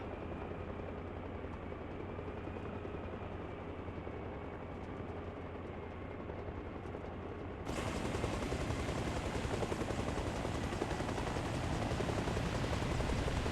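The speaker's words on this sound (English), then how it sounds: "that is a 0-0 landing" Military helicopter setting down in Arma Reforger, a steady rotor and turbine roar that jumps abruptly louder and fuller about halfway through and then holds as a dense, continuous rumble.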